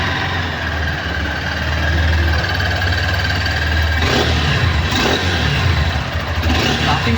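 Honda NX200 motorcycle (2025) engine running steadily with a smooth, low exhaust rumble and a few brief throttle blips, recorded up close and loud with no talking.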